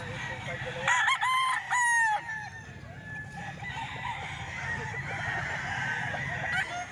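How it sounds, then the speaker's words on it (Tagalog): Roosters kept by a seller crow loudly in a long rising-and-falling call near the start, then fainter crowing and clucks continue over a steady rumbling background. "Mga manok to ni boss Jun mga boss."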